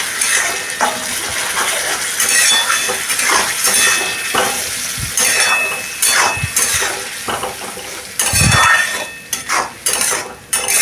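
Tomato paste and spice masala being stirred and fried in a pan for Bengali-style egg kima, with a steady close sizzle, scraping of a spoon against the pan and occasional metallic clinks.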